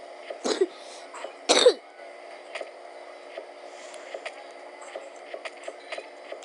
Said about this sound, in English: Guys, I have a cough.